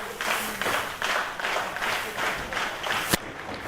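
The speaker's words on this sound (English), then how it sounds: "this crowd is trying to get behind the classic Eric Martin." A wrestling crowd cheers and applauds steadily in dense, rolling waves, a loud and close arena roar with one sharp clap near the end.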